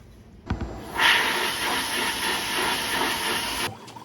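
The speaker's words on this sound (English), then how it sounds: "We are going to take them over to the blast cabinet here and blast whatever finishes off of them first" A blast cabinet sprays abrasive onto Nissan BNR32 rotor hats, a loud steady hiss that starts abruptly, runs for about three seconds, then cuts off.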